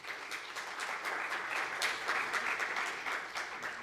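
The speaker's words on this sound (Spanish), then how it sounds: "Aplausos, por favor." Audience applause at a talk on AI-generated disinformation, steady dense clapping at moderate level throughout with no voices over it.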